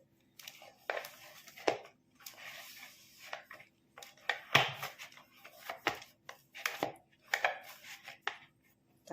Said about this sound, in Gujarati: હવે આપણે તેને સરખી રીતે મસળી લેશું